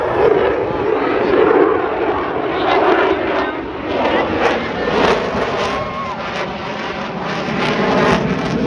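Loud, continuous jet roar of an aircraft landing vertically at an airshow in Altus, Oklahoma, holding steady for the whole stretch with slight swells in intensity, crowd noise faintly beneath.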